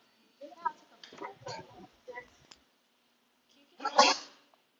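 A single loud sneeze bursts out near the mic, following a stretch of indoor conversation, at a brewing company.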